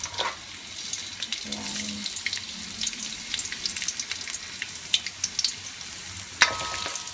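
Garlic frying in a pan, a steady close sizzle with scattered crackles and stirring knocks; a brief spoken word early on and a short watery gush near the end.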